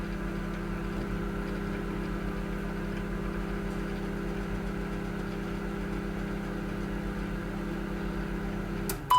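A microwave oven runs on high power, a steady low hum with a fan whir holding evenly throughout, then a sharp beep right at the end.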